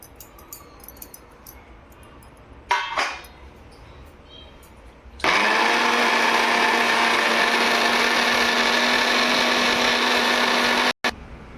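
Mixer grinder blending roasted onion, tomato, coriander and dry coconut for a cowpea curry, starting abruptly with a loud, steady motor whir that runs for about six seconds before cutting off, preceded by a short clatter.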